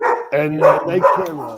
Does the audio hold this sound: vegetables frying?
no